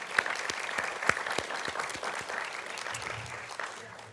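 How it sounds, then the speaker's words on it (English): Audience applause at a panel event on AI and street safety, a round of scattered individual claps that starts with sharp near hits and thins toward the end. "Just a round of applause for."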